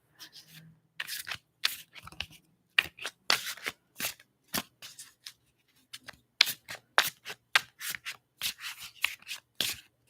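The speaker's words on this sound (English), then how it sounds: "I am going to pull a handful more of cards." Deck of cards being shuffled by hand in a quiet room, a long run of quick riffles and rubbing slides in irregular bursts, close and crisp.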